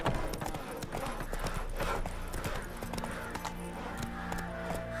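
Steady hoofbeats of a horse galloping in The Witcher 3 clop along in a fast, even rhythm, with faint background sound and little talk.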